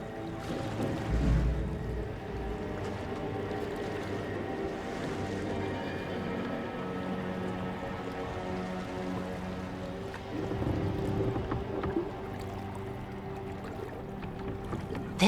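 A small boat glides across a foggy lake in Dragon Age: The Veilguard, with a steady low hum and soft water wash sustained throughout, at moderate level with no talking.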